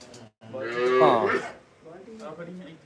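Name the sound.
buffalo being milked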